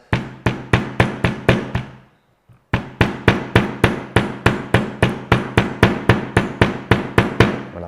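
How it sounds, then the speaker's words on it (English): A hammer strikes catfish bait on a hard surface to flatten it, a steady run of sharp, loud, evenly spaced thuds close by, broken by one brief pause before the blows resume. "The only reason I'm giving it a little hit with the hammer is just to flatten it out to make my bait a little bit more presentable."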